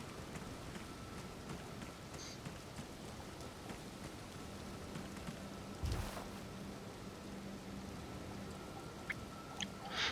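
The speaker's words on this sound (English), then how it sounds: "now it's all foggy and raining" Rain falls steadily in Liurnia of the Lakes in Elden Ring, a soft continuous hiss of drops on the surface with a brief louder rumble midway, faint and even throughout.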